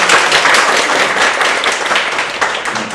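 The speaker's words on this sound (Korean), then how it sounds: "우리 박수 한번 저기" Audience applause at an academic conference of a Korean social studies education society, a loud, dense burst of clapping from a seated crowd that holds steady for about three seconds.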